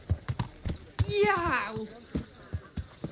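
Horse hooves clip-clopping in the video game Kingdom Come Deliverance, a steady close rhythm of sharp knocks with a horse's whinny breaking in partway, and a voice cries out briefly over it.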